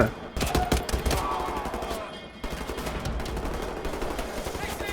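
Rapid gunfire in the video game Wolfenstein: The New Order, loud and sustained with dense overlapping shots, a brief lull midway, then continuing steadily.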